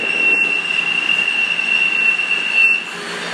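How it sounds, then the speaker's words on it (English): A Class 221 diesel train passes close by at Bristol Temple Meads station, a steady loud rumble with a sustained high wheel squeal running through most of the passage. "Passing me to my right is 1S41 221 120, running a service from Bristol Temple Meads to Glasgow Central."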